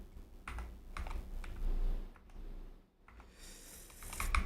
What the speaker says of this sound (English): You should type the backslash on your keyboard.